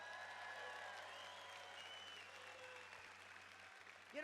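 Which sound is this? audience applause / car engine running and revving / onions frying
audience applause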